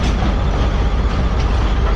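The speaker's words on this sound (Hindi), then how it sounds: "ट्रेन हमारी प्लेटफॉर्म लाइन पर अप्रोच बनाते हुए" Mohen Jo Daro passenger train approaching the platform at a station in Sindh after heavy rain, a loud, close, continuous rumble of wheels and cars rolling past.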